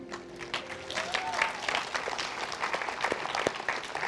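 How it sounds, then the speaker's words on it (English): A church congregation at a Sunday morning service applauds, with sharp individual claps standing out from a moderate crowd of hands, a faint voice at the start, and the clapping swelling slightly midway. "Clap louder than that, please."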